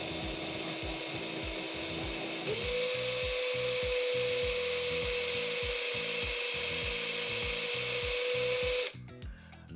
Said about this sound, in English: now I need to insert my glass rod into my drill